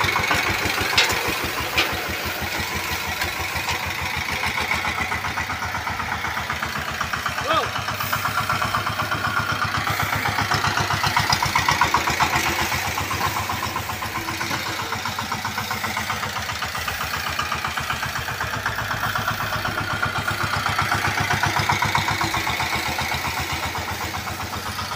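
A tractor engine runs steadily during paddy threshing at harvest time, a loud continuous mid-pitched drone with a rapid mechanical pulse that holds throughout, and a voice speaks at times over it.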